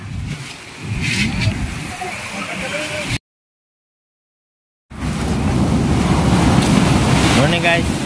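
Big sea waves driven by Typhoon Carina crash and churn on a beach while strong wind buffets the microphone, a loud continuous rumble broken by a brief silent gap partway through.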